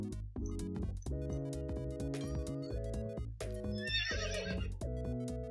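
Horse in the online riding game Star Stable Online whinnies loudly several times alone over steady synthetic hoof clip-clops and a bright shimmering chime, with no talk.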